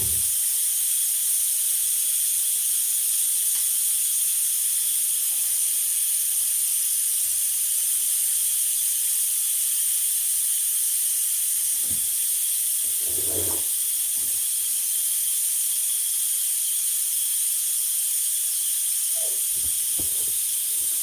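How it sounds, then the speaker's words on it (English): A pressure cooker cooking beans vents steam in a loud, steady, unbroken hiss that lasts throughout, with a few faint clunks and movements beneath it. "I got my beans over there cooking in the pressure cooker."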